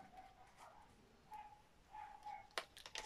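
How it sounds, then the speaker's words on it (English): A dog barks faintly in the distance, a few soft woofs and yips sounding from another room against quiet background hiss. "Sorry about the dog barking if you can hear it."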